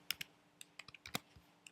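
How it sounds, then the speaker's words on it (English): A question is typed on a computer keyboard: about a dozen quiet, separate keystrokes in an uneven rhythm, close up over a faint hum, with no voices. "We simply type in the question, who is Adam Jones?"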